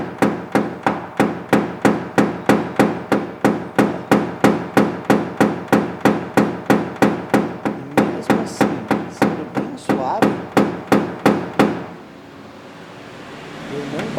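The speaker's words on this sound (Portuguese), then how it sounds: "Olha o tanto de batidas que são necessárias para abaixar esse pequeno ponto." Small hammer tapping out a car body dent during paintless dent repair, striking about three times a second in a steady run of sharp, close metallic knocks, then stopping abruptly and leaving faint room noise.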